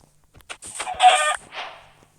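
Chicken clucking in the Minecraft video game: a few short, bright squawking clucks in quick succession, fairly close and loud, with no talking over them.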